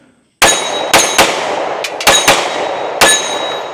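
Outdoors, a pistol fires about seven sharp, loud shots at uneven intervals, each with a metallic ring and short echo, and no voices are heard.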